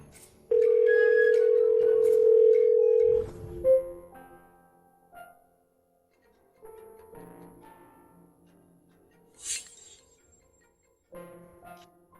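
A steady telephone tone sounds loud for about three seconds, followed by faint clicks and scattered quiet room noises.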